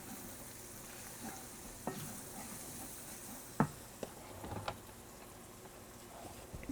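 Flour being stirred into sausage and its grease in a pan for gravy, a quiet close sizzle with soft scraping stirs and a few sharp utensil taps against the pan.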